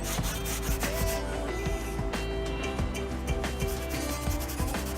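A sponge loaded with melted Briwax is rubbed over rough, unfinished salvage timber, giving a steady scratchy scrubbing with repeated strokes, close and continuous with no talk.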